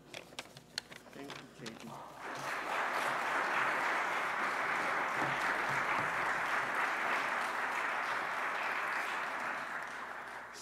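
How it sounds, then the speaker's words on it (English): After a couple of seconds of a lone speaker, an audience at a Martin Luther King Jr. remembrance ceremony breaks into sustained, loud applause for student speakers, holding steady for about eight seconds. "please join me in giving all three student speakers another round of applause"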